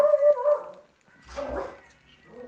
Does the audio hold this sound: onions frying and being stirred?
no